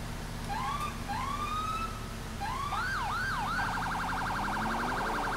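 Police car siren in the video game GTA IV, rising and falling wails that switch into rapid yelping pulses, heard at moderate level over a steady engine drone.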